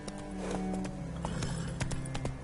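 A horse galloping in a video game, quick rhythmic hoofbeats thudding close and steady over a low rumble of ambient game noise.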